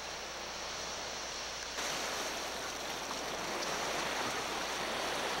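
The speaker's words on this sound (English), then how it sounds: "And the waves are getting some size out there." Ocean waves surging and breaking steadily during a tide change at Pond Inlet, with a rip current backed up offshore; a continuous broad wash of surf that grows slightly louder partway through, with no voices.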